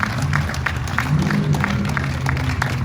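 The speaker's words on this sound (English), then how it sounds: "I think we all need to give them a round of applause." A crowd at an outdoor jail accountability rally in Tarrant County gives a round of applause: a steady, moderately loud patter of clapping over a low rumble and murmur, lasting the whole stretch.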